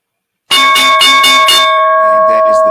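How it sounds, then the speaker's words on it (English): A stock market opening bell rings loudly, a rapid series of about five metallic strikes followed by a sustained ringing tone that lingers and fades slowly. "And that is the bell."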